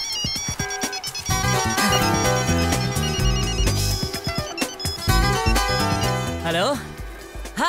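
A mobile phone ringtone plays loudly and continuously as a melodic electronic tune, steady across the whole stretch with dense tonal layers and no gaps.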